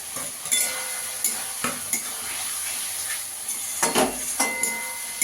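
Paneer with spices and raisins fries and is stirred in a pan, a steady bright sizzle broken by repeated scraping strokes and clinks of a spatula against metal.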